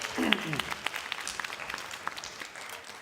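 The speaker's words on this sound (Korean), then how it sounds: "우리 오케스트라 이렇게 연주했는데 우리 다시 한번 우리 감사의 박수 부탁합니다" An audience claps for a church youth orchestra in Gunsan, a dense, fairly quiet patter of many hands with a voice speaking over the start.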